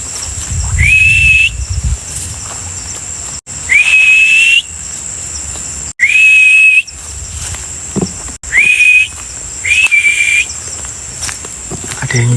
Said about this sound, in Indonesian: Nggak enak siulannya